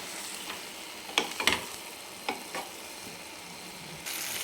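Fried eggs are stirred into a masala in a kadhai, with a steady, gentle sizzle broken by a few scraping spoon strokes, close by and fairly quiet.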